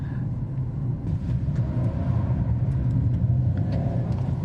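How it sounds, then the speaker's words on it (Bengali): A Suzuki Grand Vitara full hybrid SUV sliding through a fast turn, heard from inside as a continuous low road and engine rumble that swells slightly midway, with no voices. "গাড়ি স্লাইড করছে কিন্তু মানে কন্ট্রোল আছে"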